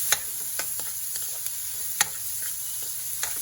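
Garlic, onion and ginger sautéing in a pan for chicken adobo, a constant bright sizzle marked by a few separate spatula taps and stirs, close and steady with no one talking.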